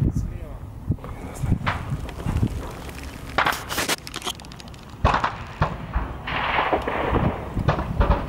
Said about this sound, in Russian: из-за зеленки стреляют